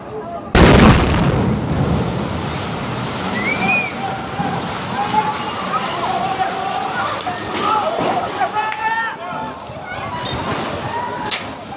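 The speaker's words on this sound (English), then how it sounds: "now we're gonna see the Israeli Air Force conducting a precision airstrike in" A precision airstrike by the Israeli Air Force in Gaza: one sharp, loud blast near the start, followed by a long rumbling, crackling aftermath with scattered pops and distant voices.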